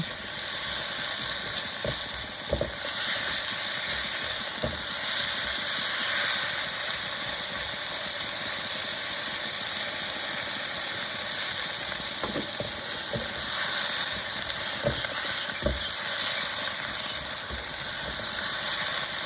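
Crispy pork for a dried-chili holy basil stir-fry sizzles hard over high heat, a loud, continuous hiss and crackle broken by scattered metallic spatula scrapes and clinks, with no one speaking.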